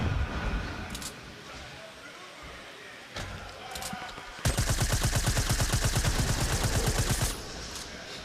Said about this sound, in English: is he using an SMG there? It's because he's trying to break through that wall because he's low on AR ammo